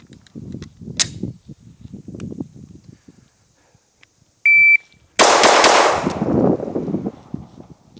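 Shadow Systems handgun fired at a shooting range, a loud sharp report late in the clip followed by a decaying ring, preceded by faint handling noises, a brief electronic beep and a clicky transient.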